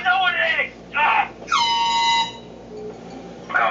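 An air horn gives one loud, steady blast lasting under a second, set between bursts of speech from people talking nearby.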